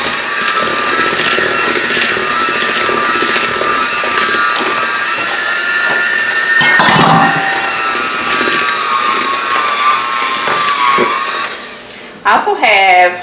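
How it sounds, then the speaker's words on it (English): Tea cake batter is mixed with a steady, loud electric whir that holds nearly unbroken for most of the stretch, then cuts off with a few short bursts at the end, with some talk under it. "Mix it together."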